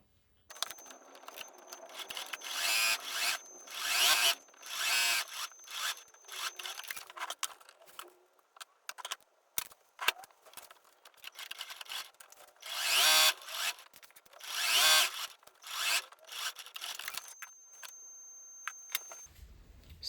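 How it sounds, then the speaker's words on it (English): Sewing machine stitching the side seams of a pair of beginner shorts, running in short irregular bursts with pauses between, close and fairly loud, no talking. "our next step is to sew the side along here and along here."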